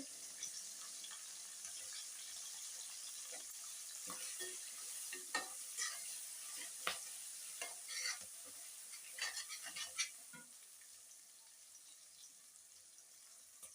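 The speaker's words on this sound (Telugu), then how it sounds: "కరివేపాకండి కొంచెం ఆనియన్స్ పచ్చివాసన పోయే వరకు ఫ్రై కావాలండి" Onions and curry leaves fry in a pan with a faint, steady sizzle, broken by scattered clinks and scrapes from stirring.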